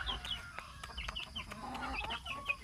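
Pet chickens cluck in short, repeated calls at morning feeding, the bursts quiet and fairly close over a soft background hum.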